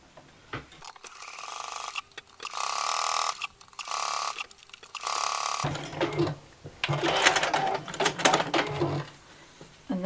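Sewing machine stitching a fabric cutlery pouch in several short runs separated by pauses, each burst a quick close whirring rattle, with louder, busier handling noise toward the end.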